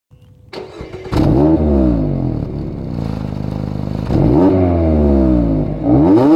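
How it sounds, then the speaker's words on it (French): A 2.0-litre Mazda MX-5 RF roadster engine fires up at the push of a start button, then gives a few loud, close revs that rise and fall in sweeping blips over a steady growling idle. "Une pression sur le bouton Start et le moteur grogne déjà."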